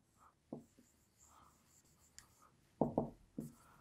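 Pen scratching on paper during a classroom-style test review, with soft intermittent strokes and a few louder scribbles near the end, faint and close with no talking.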